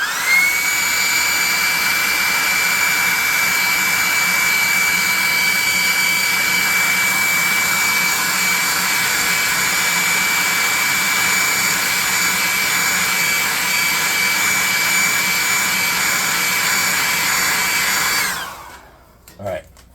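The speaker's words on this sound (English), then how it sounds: "we're going to hit that with a hairdryer" A hairdryer blows steadily at close range with a constant whine, running for most of the clip before switching off near the end.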